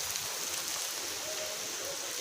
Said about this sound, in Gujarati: અચાનક જામનગરમાં વરસાદ જો તૂટી પડ્યો છે.